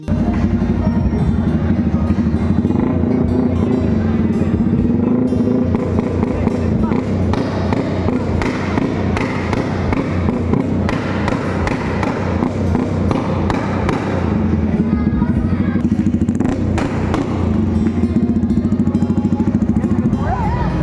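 Yamaha Sniper 155 big bike concept motorcycle idling nearby, a loud steady engine rumble with uneven pulsing throb and brief blips, continuous throughout.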